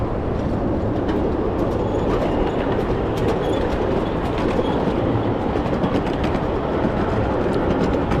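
A small ride-on 0-6-0 steam locomotive hauls two eight-foot steel cars and two large flatbeds at a live steamers meet, a close, continuous rolling rumble with steady clickety-clack of wheels on rail joints.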